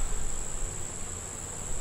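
A constant, close drone of many honeybees fills the air around a weak hive being boosted with extra bees; the buzzing stays even and unbroken throughout.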